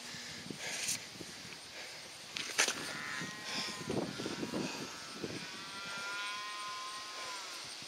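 Sheep on a mountain trail in the Grayson Highlands, Virginia, bleating repeatedly at close range, several calls rising and wavering over a bed of outdoor noise and rustling.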